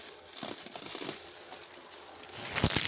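Tape or plastic wrap is ripped and crinkled while a refrigerator is wrapped for shipping, a close, crackly tearing rustle lasting a few seconds with a sharper burst at the end.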